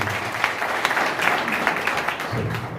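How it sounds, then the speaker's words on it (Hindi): Applause from an audience at a gospel meeting welcoming guests, a dense continuous clapping that holds steady throughout and swells slightly toward the end. "तालियां बजाकर उनके स्वागत करें।"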